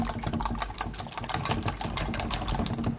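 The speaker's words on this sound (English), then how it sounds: "So we're going to whisk this." A whisk beats a mixture in a bowl, producing a rapid, continuous run of clicking and scraping taps against the pan's side, close and fairly loud.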